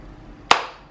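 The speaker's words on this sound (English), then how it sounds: "And clap." A single sharp hand clap rings out close and crisp in a quiet room, a brief bright burst with a short decay.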